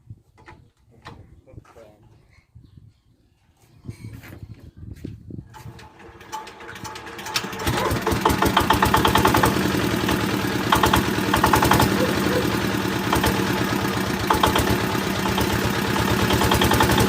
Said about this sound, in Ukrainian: Ну і дивимося, як він запуститься і як буде м'ягенько робити